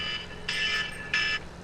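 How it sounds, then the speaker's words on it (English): An electronic alarm beeps twice in short, high, buzzing tones about half a second apart over a quiet background, heard in a Farming Simulator 17 game. "Oh, someone's alarm went off."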